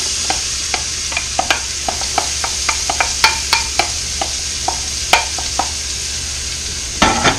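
Diced onions sautéing in an Instant Pot make a low sizzle under frequent rhythmic scraping taps from stirring, with a louder burst of clatter at the end.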